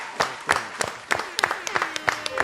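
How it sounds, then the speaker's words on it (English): A small group gives scattered, sparse applause, a handful of distinct claps in an uneven rhythm, fairly quiet and close, with a faint murmur in the background. "Give Bishop a round of applause"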